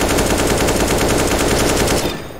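Sustained automatic fire from an AK rifle in CS:GO, a loud unbroken burst of rapid shots lasting about two seconds before cutting off into a short ringing tail.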